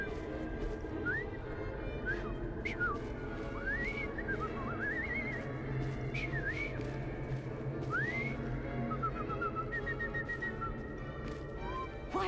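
A character in Assassin's Creed Syndicate whistles a wandering, irregular tune of short rising and falling notes across several seconds, moderately close, over a busy background of street ambience and scattered clicks.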